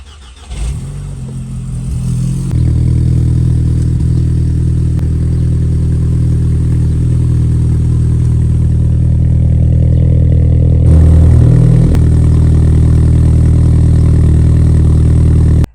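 A Volkswagen Golf 5 GTI engine running, heard from close by as a steady, loud low drone that builds over the first seconds and then holds constant.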